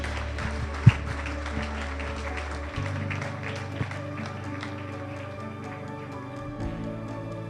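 A round of applause from wedding guests at an evening reception, steady dense clapping carrying on throughout with a few sharper claps standing out near the start and middle.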